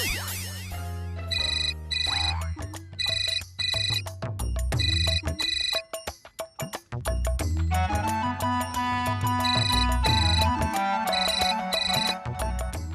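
An outgoing call rings on a phone, a repeated electronic ringtone melody in clear bursts with short gaps, loud and alone without speech.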